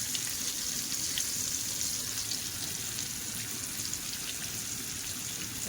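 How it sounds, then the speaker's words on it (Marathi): Black fish fry on a large flat griddle pan, giving a steady, soft sizzle and crackle of hot oil with faint popping, continuous and without talk. "आता हे आपण असंच चांगलं व्यवस्थित फ्राय करून घेऊया"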